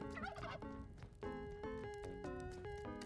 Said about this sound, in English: There's turkeys down here for us to mess around with.